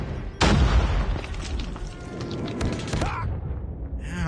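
A grenade explosion in Call of Duty, a sudden heavy boom that rolls out into crackling debris and scattered gunfire, with game voice chatter underneath.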